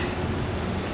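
A theme park ride train at Tropic Falls at OWA rumbles steadily as it locks onto the lift, a brief, continuous mechanical rolling drone heard close and alone.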